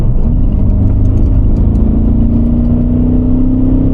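A Mercedes-Benz car engine held at full throttle through a turn, a steady loud droning rumble with a rising whine throughout, close and continuous with no talk.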